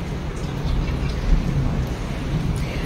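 Heavy rain pours in Puri with low thunder rumbling beneath the dense, steady downpour, heard close and fairly loud without talking.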